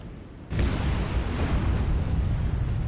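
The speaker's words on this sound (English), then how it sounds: "Nagara suffers magazine explosion, which is extremely good," A warship's magazine explodes in the War on the Sea naval combat game, a sudden loud blast that erupts after half a second of quiet and rolls on as a sustained, dense roar.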